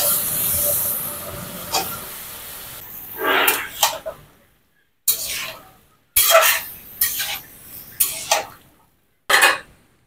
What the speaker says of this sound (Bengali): এখানে যে কেটে রাখা আলুগুলো দিয়ে দিব।